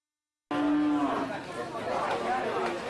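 Cattle moo at the Jerebeng Kidul livestock market in Probolinggo, East Java, with a loud, long low call starting abruptly, followed by further lowing amid crowd chatter and market noise.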